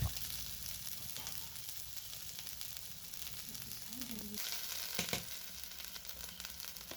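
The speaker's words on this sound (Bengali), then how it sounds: "এবার লঙ্কা গুঁড়ো দিয়ে তো একটুক্ষণ কষিয়ে নিয়েছি" Chili powder sautéing in hot oil for egg curry, a continuous close sizzle and crackle with occasional stirring scrapes and a brief clink, fairly quiet throughout.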